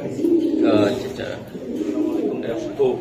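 Pigeons coo steadily and close by at a wholesale pigeon farm that keeps home racer, high-flying and fancy birds. Low, rolling calls continue throughout, with murmured voices mixed in.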